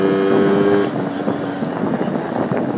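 A Yamaha Towny motorcycle engine winds out in second gear on a ride along a rough road, its droning revs rising then settling under steady wind buffeting on the microphone.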